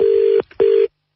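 Telephone disconnect tone after a dropped call: two steady, clear beeps of equal pitch, each lasting about 0.4 seconds and separated by a short gap, with nothing else heard.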